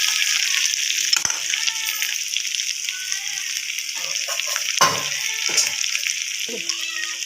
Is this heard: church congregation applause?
no